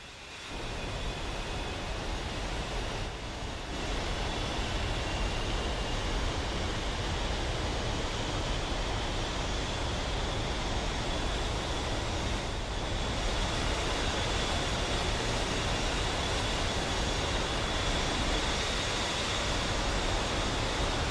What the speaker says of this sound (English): With both engines now running and powering the left and right AC generators